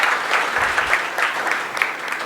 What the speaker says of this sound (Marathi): जोरदार टाळ्या झाल्या पाहिजेत पोरे सरांसाठी.